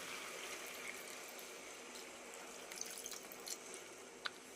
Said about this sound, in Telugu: ఇదిగోండి వాటర్ వేస్తున్నా.